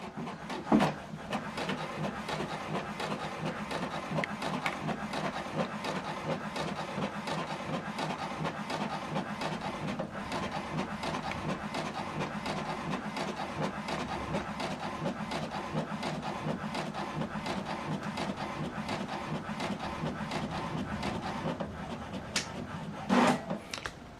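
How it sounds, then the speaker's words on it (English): An HP Deskjet 2820e inkjet printer prints a document, giving a steady whirring, rubbing mechanical run with small clicks and a louder clunk near the end, close by and alone. "This is the document paperwork we printed out."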